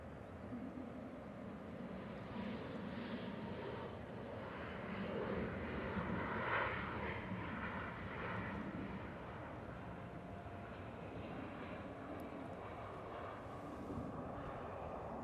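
A plane coming in to land at Manchester Airport, a broad steady jet roar heard from a distance that swells slightly in the middle and then holds, with no talking.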